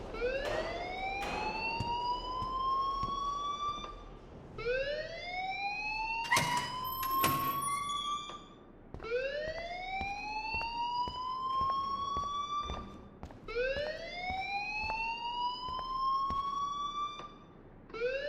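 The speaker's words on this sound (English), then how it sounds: "please turn off that alarm since that's your job" A school alarm in the Life is Strange video game, a loud rising electronic siren sweep repeating four times in steady cycles, with scattered clatter and thumps behind it.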